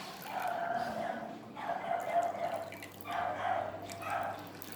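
Water pours into bowls for a potato cup experiment in a few separate splashing bursts, each with a short pause between, fairly quiet and close.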